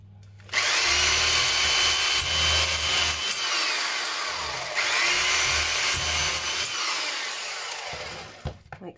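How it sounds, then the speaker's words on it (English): A power drill whines loudly in two long bursts, drilling holes through a tin can up close, then winds down and stops. "I'm just going to use a power drill."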